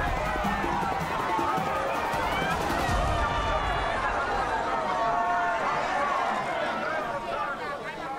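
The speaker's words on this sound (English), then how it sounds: "cheered by an enthusiastic crowd" An enthusiastic crowd at a Jamaican pushcart race cheers and chatters for the winning champion, a steady dense hubbub of many voices that stays loud and constant throughout.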